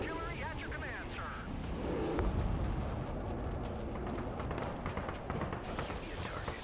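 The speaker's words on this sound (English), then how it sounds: "Rocket artillery at your command, sir." Rocket artillery fires in the video game Broken Arrow as a rumbling run of booms and bursting blasts, with voices speaking over the barrage.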